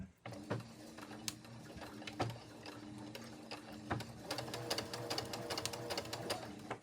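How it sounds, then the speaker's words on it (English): A sewing machine stitches bias tape onto a scarf being made into a vest. Its rapid mechanical clatter runs close and continuous, with small bursts and taps throughout. "I'm sewing right inside the bias tape, right on the side of that fold without catching that fold"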